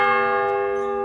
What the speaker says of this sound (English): you might as well check if the chapel bell is in good working order